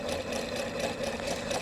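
Sewing machine stitching quilt fabric for a miniature pineapple log cabin block, guided along the edge of the presser foot at a scant quarter inch; a steady, close, rapid mechanical whir with rhythmic needle pulses, no talking.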